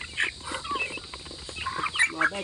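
Chickens being fed give out a cluster of soft clucks and short chirps close by, rising and falling irregularly, with no speech.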